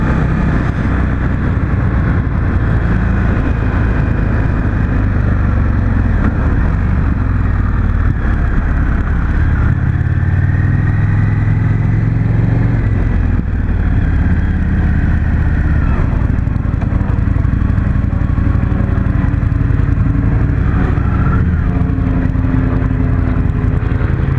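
An Indian Motorcycle FTR 1200 engine accelerating hard through the gears, a loud continuous roar with rising and falling pitch as it revs and shifts, heavy wind rush throughout and no clear talk.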